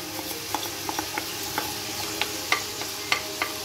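Washed rice stirred into a pan of sizzling onions, garlic and curry, with steady frying hiss and repeated sharp scrapes and taps of a spoon against the pan.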